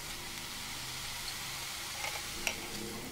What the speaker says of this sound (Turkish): Evet, kıymamız suyunu çekmeye başladı gördüğünüz gibi.